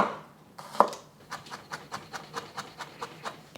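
Knife chopping a giant garlic clove on a cutting board, a steady run of about a dozen soft, close taps at even pace, preceded by a brief scrape.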